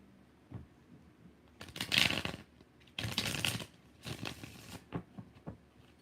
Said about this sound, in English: 4 shuffles for Indigo,